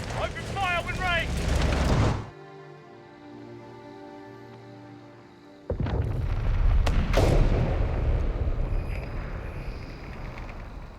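Artillery and gunfire boom in a Company of Heroes 3 battle on the Italian campaign, with a voice shouting at the start, a quieter lull, then a loud rumbling barrage of gunfire and blasts.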